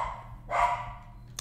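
A dog at home gives a single short bark, close and fairly loud, with a faint click just after it and no talking.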